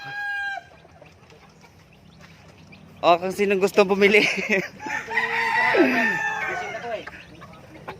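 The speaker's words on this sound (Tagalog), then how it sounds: "Ang dami niyang manok." Chickens cluck and a rooster crows nearby on a farm in a burst of overlapping calls, with a person speaking briefly at the start.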